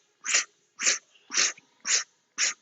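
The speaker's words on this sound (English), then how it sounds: "This just means that we take as many sips in as we can." Five short, sharp inhalations through the mouth, evenly spaced with quiet pauses between each breathy sip of air.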